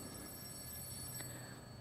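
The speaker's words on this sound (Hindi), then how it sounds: "फोन की घंटी बजते ही शिव प्रताप सिंह चौंके।" An old-style telephone bell rings faintly and steadily in a quiet room, a thin continuous trill with no voices.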